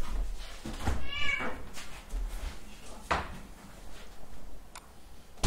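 A cat meows indoors, one drawn-out wavering meow early on, followed by a couple of sharp knocks and scattered faint rustling against a quiet room background.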